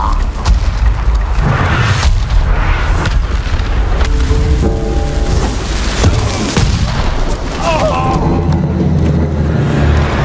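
Cannon fire and explosions in the Ghost of Tsushima video game, a loud, continuous barrage of booms and blasts with brief shouted voices in the middle of the chaos.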